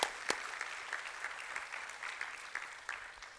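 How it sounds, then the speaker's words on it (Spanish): Faint, distant applause from a church congregation welcomes viewers to a broadcast service, a dense wash of many hands clapping continuously with no voices over it. "Queremos enviarle un fuerte aplauso de bienvenida a todos aquellos que nos sintonizan."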